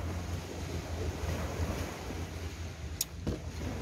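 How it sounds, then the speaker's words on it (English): Waves wash in at Ton Sai Beach on Phi Phi Island, Thailand, a broad steady surf rush mixed with wind buffeting the microphone, with a low boat engine rumbling underneath. "Welcome, perfect beach right here. The best beach in Thailand"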